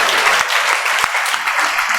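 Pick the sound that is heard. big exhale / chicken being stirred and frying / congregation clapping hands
congregation clapping hands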